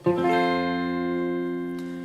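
A single guitar barre chord strummed once, ringing out clearly and sustaining as it slowly fades.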